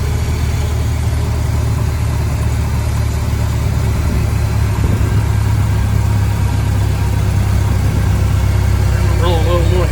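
A Model T Ford engine runs loud and close as throttle is added, a steady rough low rumble and mechanical chatter that holds throughout, with a voice faintly audible over it.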